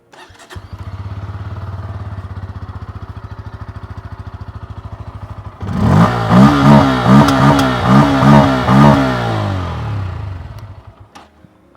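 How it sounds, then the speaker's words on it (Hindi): Bajaj Pulsar N160 motorcycle engine cranking over, catching and then being revved in a series of rising, close, loud bursts that fall back toward idle. "अब स्टार्ट करते हैं N160 को।"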